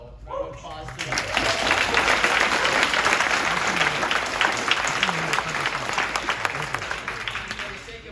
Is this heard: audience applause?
yes